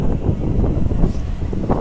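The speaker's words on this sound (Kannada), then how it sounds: "ಗಾಳಿ ತುಂಬ ಬೀಸ್ತಾ ಇದೆ" Strong sea wind buffets the microphone on a floating bridge at Malpe beach, a loud, low, gusty rumble that surges and eases in uneven waves with no voices.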